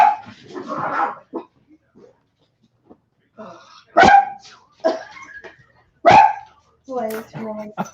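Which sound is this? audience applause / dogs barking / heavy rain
dogs barking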